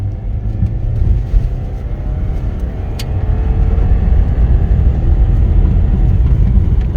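A Subaru XV engine accelerates on a test drive, heard as a loud, low, steady drone that swells slightly in the second half, with tire and road rumble mixed in and no talking.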